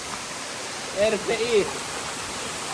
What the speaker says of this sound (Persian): اومدیم آبشار گلوکان،